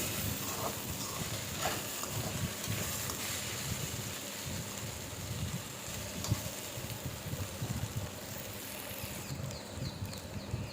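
Okra and peanuts frying in an open pan without a lid, a steady close sizzle and crackle with occasional stirring scrapes throughout.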